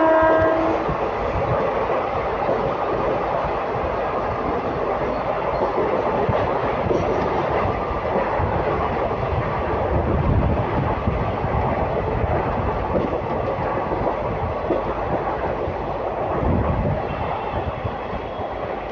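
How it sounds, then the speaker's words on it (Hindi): Gujarat Superfast Express train 22954 runs past, a steady loud rumble with clickety-clack of wheels on rails and a brief horn-like tone near the start, sustained throughout. "भाई साहब ट्रेन चेक करें क्या है, क्रॉस मार रही है।"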